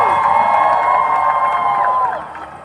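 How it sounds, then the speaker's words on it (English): A commencement audience bursts into loud, sustained applause mixed with cheers and whoops, close and full for about two seconds before tapering off. "Give them one more round of applause."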